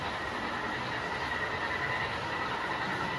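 A model train runs inside a masonite helix on a layout, producing a steady, even rolling rumble with a faint hiss and no pauses.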